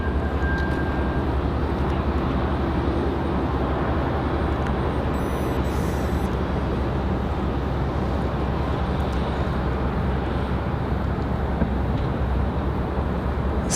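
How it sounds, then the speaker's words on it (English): A Southwest Airlines Boeing 737 Max 8 starts its engines at Raleigh-Durham airport, a steady broadband roar heard from a distance that holds unchanged throughout, with faint higher tones riding on top. "I hear that Max 8 starting up for Southwest Airlines"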